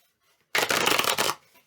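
Tarot cards are shuffled by hand in one quick, crisp riffling burst of just under a second, close and clear against a quiet room, with no talking.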